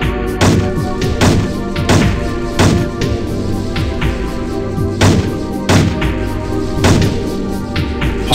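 Explosions of destroyed enemy tanks and gear in the 1997 mech combat game Heavy Gear, a run of loud, heavy thuds and crashes repeating every second or so over constant game noise.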